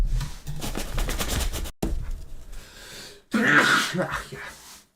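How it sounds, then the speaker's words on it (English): A sudden, loud sneeze bursts out after a stretch of quieter rustling and breathing, close to the microphone. "I have to sneeze again."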